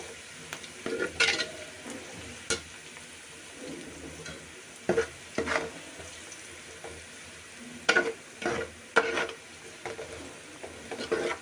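A ladle stirs frying ingredients for an Andhra coastal-style catla fish curry, with turmeric just added, in a pan: irregular scraping strokes come and go over a quiet background sizzle.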